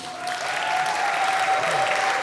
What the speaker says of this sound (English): When someone steps on stage, you greet him with a loud, loud, loud round of applause.